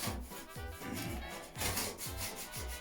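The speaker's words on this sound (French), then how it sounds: "Bien nettoyer tout le tour. Enlever voilà, toutes les poussières, toutes les petites choses qui vont se coller dans le joint après." Cloth wiping and rubbing around a bathroom joint to clear dust before silicone is applied, a steady close scrubbing with repeated back-and-forth strokes.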